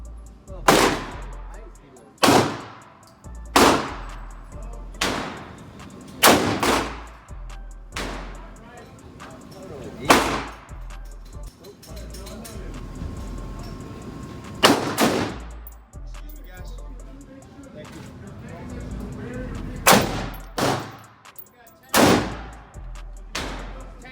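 Gunshots ring out one at a time at an outdoor shooting range, a dozen sharp, loud cracks spaced a second or two apart with short echoing tails, while people talk between the shots.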